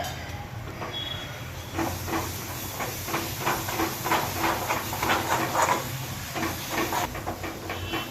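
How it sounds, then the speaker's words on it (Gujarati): Ghee added to a hot pan while making mango coconut sweet, a continuous hissing sizzle with irregular spattering pops throughout, close and moderately loud. "ચાલો થોડું ઘી પણ અંદર ઉમેરી દઈએ"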